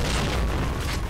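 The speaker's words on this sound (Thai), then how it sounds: "ระเบิดมันจะระเบิดเลย" A deep, loud boom of an explosion in the video game Point Blank, rumbling low and filling the short clip with no talk.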